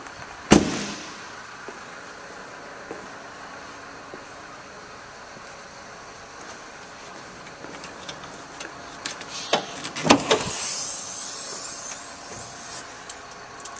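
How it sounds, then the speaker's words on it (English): Hood release on a 2010 Ford F-250 Super Duty with a PowerStroke diesel engine: a sharp click-thump near the start, then quiet, then another sharp metallic pop with a short rattle, both close by in a quiet setting. "pop the hood now."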